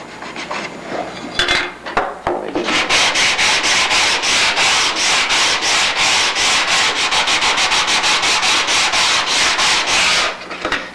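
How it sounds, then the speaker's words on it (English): Close, rhythmic back-and-forth rasping as an edge is sanded on an aircraft kit's canard and elevator parts; quick, even strokes repeat steadily for several seconds, then stop. "As you sand in, you can also pick this edge up and rotate it across the surface."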